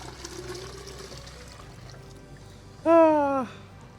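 Water is poured into a bucket to test the small pump of an H&L QL N 1900 jet cleaner. The pour is a steady, close gush and trickle, ending in a brief rising tonal gurgle.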